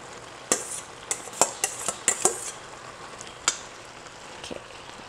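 A utensil stirs shrimp pasta in a pan, giving a string of sharp clinks and scrapes in the first half and a few sparse taps later over a faint background.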